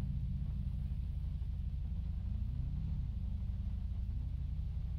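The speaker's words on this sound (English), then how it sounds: "he revs his engine in front of a public place or private property" A car engine in GTA V roleplay gives a steady, deep idling rumble that swells slightly in a brief rev midway, then settles again, heard alone without voices.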